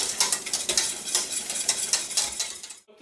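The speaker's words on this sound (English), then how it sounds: "And we're just going to whisk those in." Metal whisk beating butter into pastry cream in a pot off the heat, a rapid, close scraping and clinking that runs steadily before stopping abruptly near the end.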